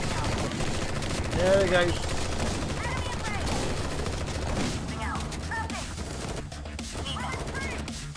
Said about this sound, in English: So your troops will automatically fire at the enemy.